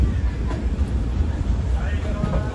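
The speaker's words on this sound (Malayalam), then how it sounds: "കാസൽ റോക്ക് റെയിൽവേ സ്റ്റേഷനിലേക്ക് ഇതാ ട്രെയിൻ എത്തിക്കൊണ്ടിരിക്കുകയാണ്" The Goa Express, running Vasco to Hazrat Nizamuddin, rumbles steadily into Castle Rock railway station, a low continuous rolling drone heard close up with a voice speaking over it.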